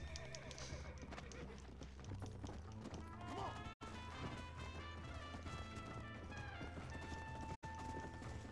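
Horse hooves in Red Dead Redemption thud rhythmically at a gallop under a busy mix of music and effects, with a whinny in the background.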